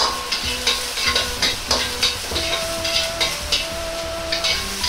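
Ginger fries in about a teaspoon of leftover frying oil in a pot, with a steady close sizzle and a regular rhythm of utensil scrapes and stirs.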